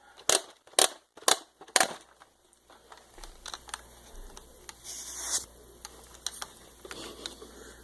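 A Nerf dart gun fires test shots up close: four sharp, loud snaps in quick succession, followed by softer scattered clicks and light rattling.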